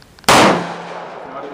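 A single .44 Magnum revolver shot fired with a near top-end H110 load cracks sharply and very loud, then decays into a long echoing tail.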